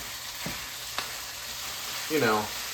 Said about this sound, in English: Wow, it's really sizzling in there.